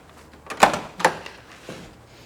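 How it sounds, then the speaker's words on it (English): A 1965 Ford Mustang Fastback's door unlatches and swings open with a couple of sharp clicks and a soft thud, close by, followed by a quieter knock. "And let's open up the door."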